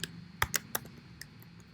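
A quick burst of three or four firm keystrokes on a Mac laptop keyboard, close up, followed by a couple of fainter taps.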